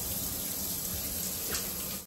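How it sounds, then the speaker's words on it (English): Shower water running steadily in a motorway service station shower, a continuous close hiss of spray with no talk, cutting off abruptly at the end. "I cannot tell you how excited I am to see a working shower."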